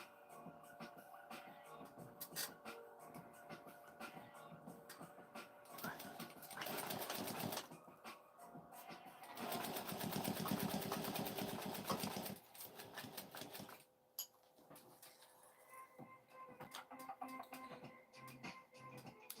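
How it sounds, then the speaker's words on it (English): A sewing machine stitches fabric down in several runs, its rapid mechanical whirring rising in two long bursts close by, separated by quieter handling noises. "I'm going to stitch that down just like that"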